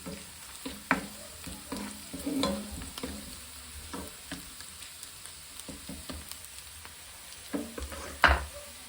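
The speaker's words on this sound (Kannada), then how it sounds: "ಸ್ವಲ್ಪ ಗೀಯನ್ನು ಆ್ಯಡ್ ಮಾಡಲೇಬೇಕು ಆವಾಗಲೇ ಅದು ಗೀ ರೋಸ್ಟ್ ಆಗ್ತದೆ ಇದು ಸ್ವಲ್ಪ ಒಳ್ಳೆಯದಾಗಿ ಫ್ರೈ ಆಗಬೇಕು" Ghee sizzles in a pan for Mangalore-style prawn ghee roast, a steady close frying hiss under intermittent scrapes and clinks of a spoon stirring, with a louder clatter near the end and no one talking.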